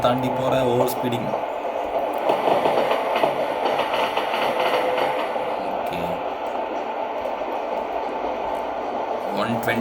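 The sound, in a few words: passenger train hauled by WAP-4 electric locomotive running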